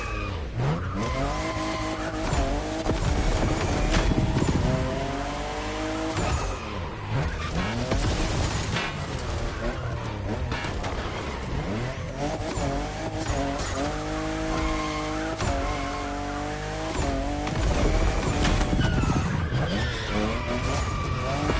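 A fifth-generation Toyota Supra races in a video game, its engine revving loudly through repeated rising gear sweeps with tire squeal and skidding, continuous and close.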